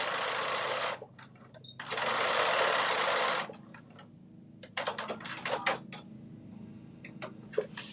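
A sewing machine stitches fabric in two short bursts, then a quick series of stop-start stitches, loud and close in a quiet room.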